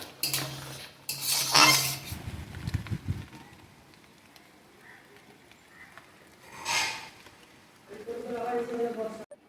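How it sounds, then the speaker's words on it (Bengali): Bottle gourd shukto with fried lentil dumplings and neem flowers is stirred in a pan, with a utensil clinking and scraping against metal in short bursts, and someone talks between the stirs. "ভেজে রাখা ডালের বড়ি আর নিমের ফুল দিয়ে দেবো। খুব ভালো করে মিশিয়ে দেবো।"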